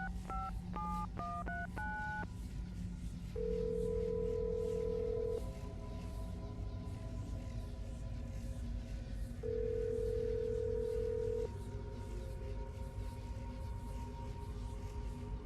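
Telephone dialing in Assassin's Creed: Brotherhood: a quick run of DTMF keypad tones, then two long steady ringback tones separated by a pause, all over a low hum.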